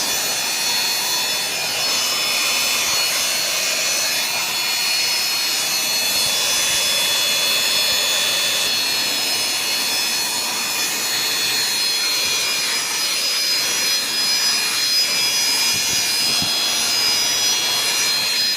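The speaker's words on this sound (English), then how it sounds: "this blows hot air from the hot motor" A steady, loud blowing roar with a hissing high edge, a hot air blower drying a washed car engine, running continuously without pause.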